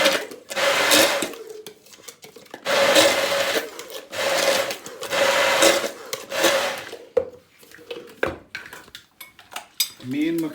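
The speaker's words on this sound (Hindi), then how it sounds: "सिर्फ वो प्याज को ग्राइंड करना, टमाटर को, और जो लहसुन हमने उसके अंदर डाला है चटनी के अंदर, उसको ग्राइंड करना" An electric mixer grinder whirs through onion, tomato and garlic for curd mint chutney in loud repeated bursts separated by short pauses, followed by knocks and rattles of the jar.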